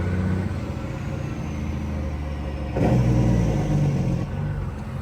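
A truck's newly fitted Jake brakes give a deep, rumbling engine roar that swells louder partway through and then eases, close by, with no talking.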